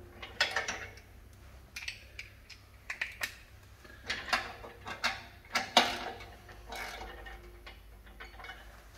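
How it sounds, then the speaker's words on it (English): Ratchet with a 3/4 inch socket tightening mounting hardware, giving quiet, irregular bursts of clicking over several seconds, faint and close with no talk. "Now you can take your 3/4 inch socket and just tighten that down till it's good and snug."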